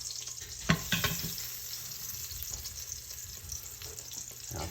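A pork loin roast sizzles steadily while browning in an Instant Pot, with close, continuous frying crackle and a few louder pops and stirring clatters near the start.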